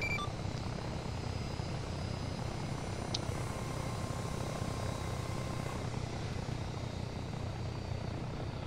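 An ARES VTOL aircraft lifts off from a deck with a steady, droning engine and rotor roar, dense and continuous throughout with a faint whine riding on top and no talk.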